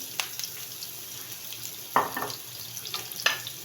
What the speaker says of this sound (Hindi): इसको हम थोड़ा सा फ्राई कर देंगे